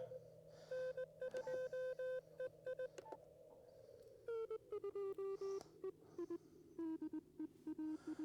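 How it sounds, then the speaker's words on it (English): Amateur radio audio tone, set around 300 hertz: short keyed beeps in irregular bursts, faint, with the pitch stepping gradually lower over several seconds against a quiet hiss. "Then I still got a strong tone. 300 hertz."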